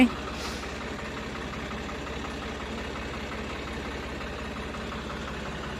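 A steady, low tractor diesel engine idles nearby with an even, chugging rumble, alone and unchanging throughout.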